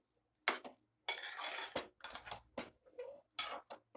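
A spoon clinks and scrapes against a pressure cooker while mixing cooked khara pongal, giving a series of sharp, close metallic knocks and scrapes in irregular bursts with short pauses between strokes.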